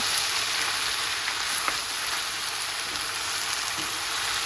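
Tomatoes added to frying beans curry, producing a steady, close, continuous sizzle with faint crackles throughout.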